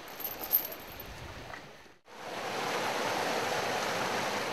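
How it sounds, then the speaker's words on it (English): Water flows steadily through an irrigation canal carrying river diversion water to cropland in Ethiopia, a broad continuous rushing wash that drops out briefly midway, then returns fuller and even. "Canals carry water to where it's most needed, cropland."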